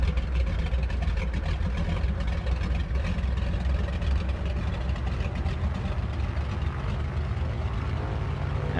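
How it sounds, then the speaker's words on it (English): Big radial engines of a Grumman Goose amphibian in Microsoft Flight Simulator, a steady, loud, low puttering drone with a rough throbbing texture that holds constant throughout with no voices. "lovely puttering sounds there from those big old radials"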